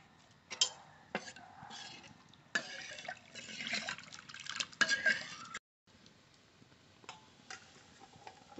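Water is poured into a pot of masoor lentil dal, a quiet, splashy stream in bursts with a few clinks and drips, alone and close.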